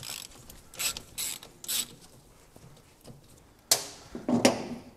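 Ratchet wrench undoing driveshaft nuts on a Triumph TR6, a run of short ratcheting clicks in bursts and pauses, then a louder metallic clatter and scrape near the end, close by with no voices.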